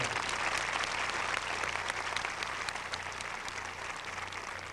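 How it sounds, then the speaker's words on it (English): An audience at a 1999 high school graduation ceremony in Jackson, Missouri, applauds the school administrators, a steady, moderately loud wash of many hands clapping in a large hall with a low hum beneath. "Give them a round of applause."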